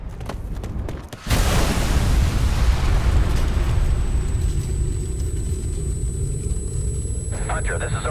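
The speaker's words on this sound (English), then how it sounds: "Bomb, get clear, get clear!" A bomb detonates in Ghost Recon Future Soldier, a loud sudden boom after a short quiet lead-in, followed by a long heavy rumbling roar that slowly settles, with faint radio-style voices at the end.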